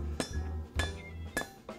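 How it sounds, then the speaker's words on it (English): A metal piece is set down on the horn of a blacksmith's anvil, giving three separate bright metallic clinks spaced unevenly apart in a quiet room. "I'm just gonna put it on the horn of the anvil."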